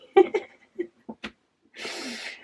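A single sharp sneeze bursts out after a few moments of quiet voice and breathy sounds, ending in a broad hissing spray of air that trails off, loud and close to the microphone.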